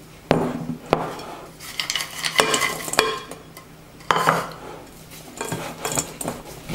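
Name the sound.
stirring chocolate chips into cookie dough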